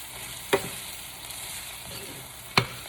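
Plant-based meat browning in a pan for baked beans, a soft steady sizzle running throughout with two sharp utensil clinks, one early and one near the end, and no talking.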